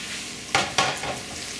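Ginger beef in a thickening cornstarch sauce sizzles quietly in a pan, broken by two quick, close stirring scrapes near the middle.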